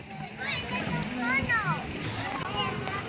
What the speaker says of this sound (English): Yeah, splash!